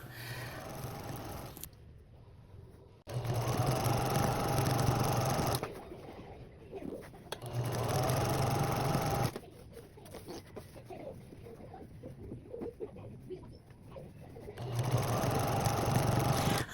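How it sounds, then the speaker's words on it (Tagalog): A sewing machine stitches along fabric edges in several bursts of fast whirring, separated by short pauses and faint handling noises, heard up close at a modest level. "tinatapos ko ng gawin yan ang pagtahi sa mga gilid-gilid"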